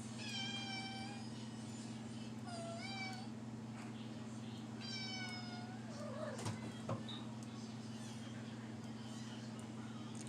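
A house cat meows repeatedly indoors, three or four drawn-out cries spaced a couple of seconds apart, faint over a steady low electrical hum, followed by a few brief knocks.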